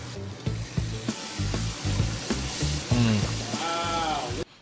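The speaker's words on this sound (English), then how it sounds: "So we'll sear in batches. So that's what you want to hear. You want to hear that sear." Meat searing in batches in a ripping hot pan, a broad steady sizzle with thuds and clatters as pieces go in, near and loud, with a brief voice-like sound toward the end.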